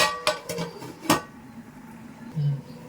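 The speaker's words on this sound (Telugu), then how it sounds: "ఇంకొక 5 మినిట్స్ మనకి మూత పెట్టేద్దామండి" A few sharp metallic clinks and clanks as a lid is set onto a pot of mutton biryani, three distinct hits in the first second followed by quiet kitchen background.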